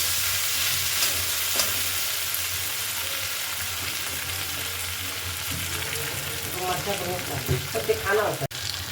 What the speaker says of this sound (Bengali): কাজু, কিশমিশ সবগুলো দিয়ে একসাথে কষে নেব।